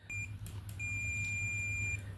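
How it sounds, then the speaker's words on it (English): A sharp, high electronic beep rings out as hoverboard motherboard pins are probed one by one, a short blip followed by a long steady tone over a low hum, with no talking. "you can hear the beep"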